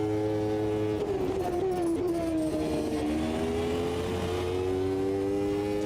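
A V12 race car engine in Automobilista 2, during a recreated 1993 Portuguese Grand Prix, howls steadily, its pitch dipping under braking and then climbing again as it accelerates, a continuous, even engine note.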